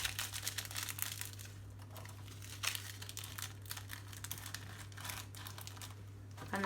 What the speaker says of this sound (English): Again, fold it in half. Tuck it in, and then fold it in half.